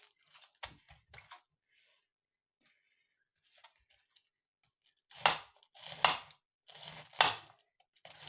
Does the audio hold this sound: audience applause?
no